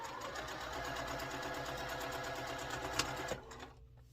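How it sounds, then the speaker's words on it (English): Home sewing machine stitching quilt block pieces together, a rapid even whir of needle strokes running steadily for over three seconds before slowing and stopping with a small click. "Okay, I have them all sewn together."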